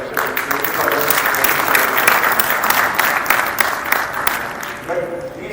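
Seminar audience applauding at a Rotary Foundation event in Panipat, a dense, sustained wash of clapping from many people that holds steady, then thins near the end as a voice begins to speak.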